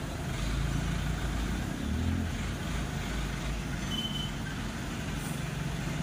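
Suzuki Access 125 scooter idling after a start, its engine a steady low hum held at an even level throughout, with a faint high tone briefly over it; the scooter has a crankshaft position sensor fault.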